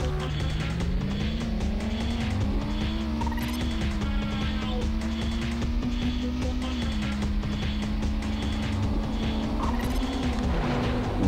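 A Jaguar car in the Test Drive 4 racing game drives with a continuous, rising and falling engine whine, and its tires squeal and skid at times, loud and constant throughout.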